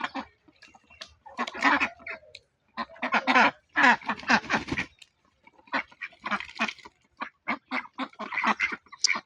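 Several ducks bathing quack nearby in loud, raspy bursts, calling over one another in uneven clusters with short quiet gaps between.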